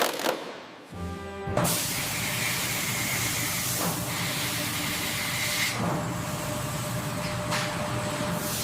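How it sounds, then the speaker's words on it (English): A steady, loud hiss of a robot applying ceramic thermal spray in an F-35 fighter jet factory runs continuously, with a brief mechanical clunk near the start and faint tonal machine hum underneath. "A specialized ceramic thermal spray is applied, creating a heat-resistant barrier"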